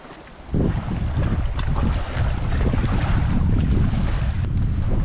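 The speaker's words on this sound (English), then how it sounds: "boy, is it actually pretty windy. Definitely gusting." Loud wind buffets the microphone in a strong, roaring rush, gusting continuously with deep rumbling turbulence and no voices, at a campsite on Perent Lake in the Boundary Waters.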